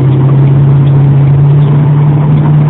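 A car engine merging onto the interstate gives a loud, steady drone from inside the cabin. A strong constant hum continues without pause, and no clear rise in pitch is audible.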